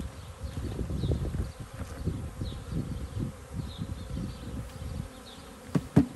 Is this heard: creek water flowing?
no